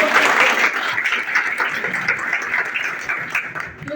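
Sustained applause from an audience at a community mass wedding ceremony, dense and steady for several seconds before tapering slightly near the end.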